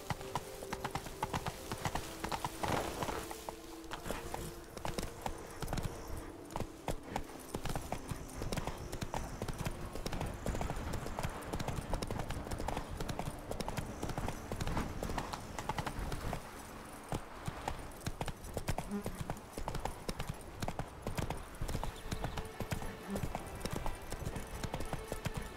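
Roach, the horse in The Witcher 3 video game, gallops steadily with rapid, continuous hoofbeats over a dense background of game sound.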